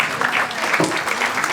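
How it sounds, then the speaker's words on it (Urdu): Steady, full applause comes from an audience at an International Women's Day event, a dense wash of many hands clapping throughout. "خواتین و حضرات بھرپور تالیوں سے پیاری بہن جناب یاسمین ڈار صاحبہ"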